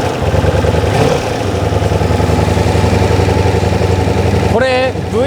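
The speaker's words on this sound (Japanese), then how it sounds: "これ V4 なんで4気筒のエンジンなんですけど、聞こえてくる音がすごいドコドコ感があるんですよね。" A Ducati Diavel V4 motorcycle's four-cylinder engine idles close by with a loud, lumpy, pulsing rumble, and a brief voice sounds near the end.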